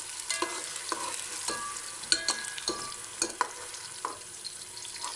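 Two large onions fry in a pot for Lahori chickpea curry, stirred steadily with a spoon, giving repeated scraping knocks over a soft, continuous sizzle, close by with no talking.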